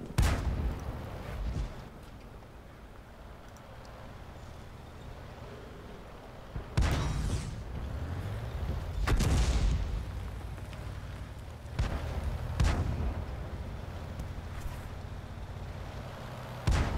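Heavy tank cannon fire in the World of Tanks video game, several loud booming shots spaced a few seconds apart over a constant rumbling battle background, with no talking.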